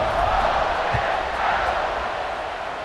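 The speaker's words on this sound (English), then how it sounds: "this crowd is feeling themselves after that last drive" Stadium crowd roaring continuously in the video game College Football 26 during a kickoff after a scoring drive, a steady broad wash of cheering at high level throughout with no clear speech on top.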